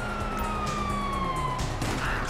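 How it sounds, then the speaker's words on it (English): A police siren wails with a falling tone amid loud, chaotic action noise and crashes in the video game GTA V. "You hear that? Siren!"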